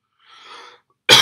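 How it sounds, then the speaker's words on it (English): A person who is unwell gives a single sudden dry cough, loud and close, after a short soft exhale in an otherwise quiet room. "Jeez, I got coughs today"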